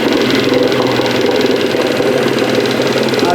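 An older Mercury outboard motor idles steadily and loudly up close, its low knocking chug continuous throughout, with the engine running slightly rough as it begins to slow.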